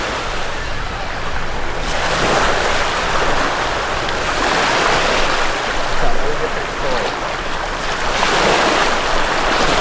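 Ocean surf rolling onto the beach at Clearwater Beach, Florida, a steady close wash of breaking waves with some wind noise, continuous and fairly loud with no talking.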